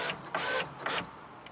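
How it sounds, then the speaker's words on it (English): Electric power window motor running on a car with a newly installed window regulator, a thin whirring hum broken by several short clicks and clunks, heard close and alone. "move the window back up."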